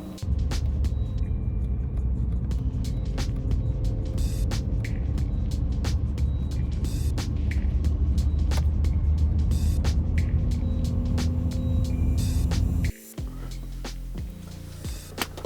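Audi A4 B8 on a test drive after a cruise control retrofit, a steady, loud interior road and engine rumble with occasional clicks, dropping briefly near the end.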